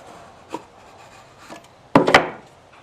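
A piece of wood pulled free from between Norton engine cylinders gives a light knock, then a short burst of scraping and rubbing wood near the end, close and fairly loud.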